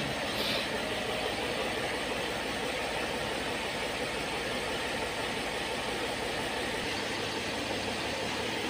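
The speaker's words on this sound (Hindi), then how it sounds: "तो अब हम गाड़ी स्टार्ट करने जा रहे हैं" A Mercedes ML 350 CDI diesel engine idles steadily after starting, a constant low rumble held close and even throughout with no talk over it.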